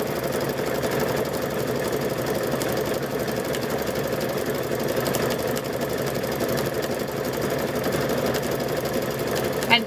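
Sewing machine running steadily while stitching fabric-wrapped rope into a bowl, a continuous close whir with a fast rhythmic chatter that holds even throughout, with no pauses.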